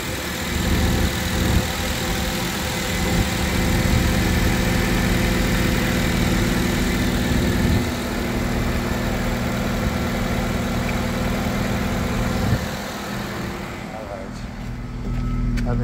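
A car engine idles with a steady low rumble, loud and close, holding an even drone throughout with slight shifts in tone.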